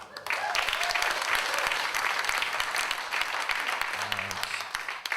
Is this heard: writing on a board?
no